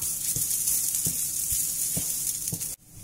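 Grated coconut dry-roasting in a kadai for a Chettinad chicken curry gives a steady close sizzle, with a few soft stirring scrapes spaced through it before the sound cuts off abruptly near the end.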